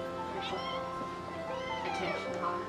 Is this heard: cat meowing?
yes